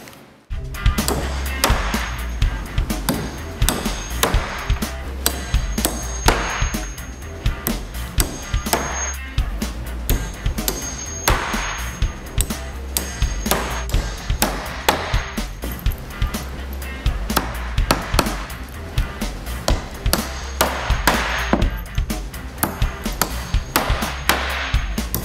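Hand hammering drives nails into a wooden window header on a building job, a long series of sharp, loud, close strikes with uneven rhythm and short pauses between bursts.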